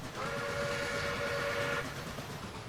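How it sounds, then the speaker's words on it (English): Steam locomotive whistle from a Pere Marquette N-1 2-8-4 Berkshire in the Train Simulator Classic game, one sustained blast heard from a distance, steady and loud for nearly two seconds over the rumble of the train. "See how far away we can hear that whistle."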